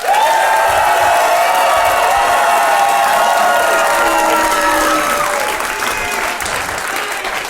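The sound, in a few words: live audience applause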